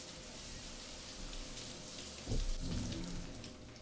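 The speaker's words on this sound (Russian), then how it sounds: "Под дождем гуляем, в принципе," Steady rain falling in a rainy city street in the video game Cyberpunk 2077, a continuous soft hiss of drops with a low rumble swelling briefly midway, no talk.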